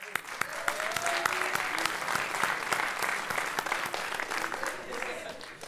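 Applause from an audience in a military school lecture hall, greeting a visiting middle-school group from Montreuil: sustained, fairly distant clapping that holds evenly throughout with a faint voice underneath.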